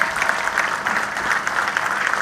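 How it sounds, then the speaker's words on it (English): An audience at the NSE global exchange launch at GIFT City, Gujarat, claps steadily and fairly loudly in a brief, even burst. "Can we have a very big round of applause for this?"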